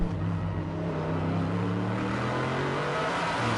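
A GT1 race car accelerates hard out of the last corner at Paul Ricard, its engine note steady and loud with rising harmonic tones throughout, no talk over it.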